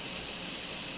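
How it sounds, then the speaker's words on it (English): Brief airbrush test spray of paint for a Bf 109G-2 scale model kit, a steady close hiss of air and paint lasting about a second with no voices. "Really quick, very small test spray"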